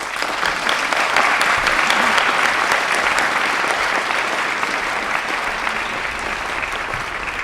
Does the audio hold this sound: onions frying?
no